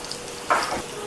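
Pineapple pieces fry in oil with a soft, continuous sizzle and a short stirring scrape just past the middle, heard briefly and up close.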